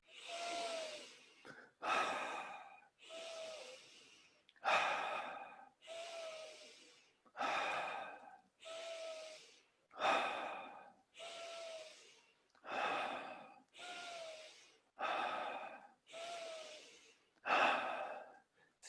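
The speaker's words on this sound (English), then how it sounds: "10 deep breaths. Go for it." Ten slow, deep breaths, each a long audible inhale followed by a gentle exhale, repeating in an even rhythm close to the microphone with no talking.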